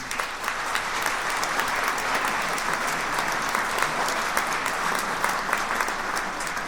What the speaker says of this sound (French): de vous applaudir encore une fois